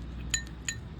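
A spoon clinks against a bowl while a curd face pack is mixed, two light, sharp taps about a third of a second apart over a quiet background.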